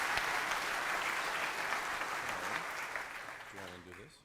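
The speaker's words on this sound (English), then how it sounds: "One more giant round of applause, Mr. Keith." Conference audience applauds loudly and steadily, a dense wash of clapping that fades slightly toward the end while a couple of voices speak over it.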